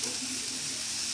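Cumin seeds hit hot oil in a pan while matar paneer is being cooked, giving a steady, close, hissing sizzle that lasts the whole short moment.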